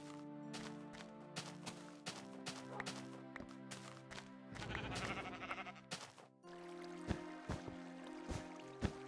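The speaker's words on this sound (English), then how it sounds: "Oh, sheep." Sheep in Minecraft bleat several times over a steady, faintly watery game background. The calls are fairly close and sit among clicks and other game noises, and nobody speaks.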